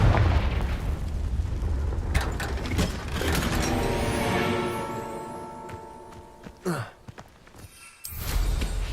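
Explosive spell blasts from a magic-duel video game, Hogwarts Legacy: booming bursts with rumbling, mechanical-sounding tails swell and fade across the clip, followed by a sharp sweeping burst near the end.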